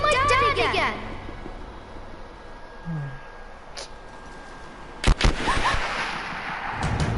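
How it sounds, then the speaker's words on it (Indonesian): Gunfire in the game Rise of the Tomb Raider: one sharp shot, then a quick cluster of loud bursts a moment later, set among voices and other game sounds. "Tembakan"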